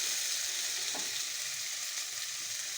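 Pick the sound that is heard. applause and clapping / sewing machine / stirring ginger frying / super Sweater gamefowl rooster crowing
stirring ginger frying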